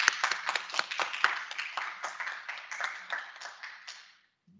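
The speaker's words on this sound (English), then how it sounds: "Let me clap up one more time for them" An audience at a criminal justice keynote event claps in a short round, many hands together at first and then thinning to a few claps before stopping.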